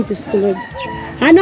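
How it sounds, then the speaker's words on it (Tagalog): A rooster's crowing call sounds close by and loud, mixed with clucking fowl and brief bits of a person talking. "Yan yung manok ni Papa."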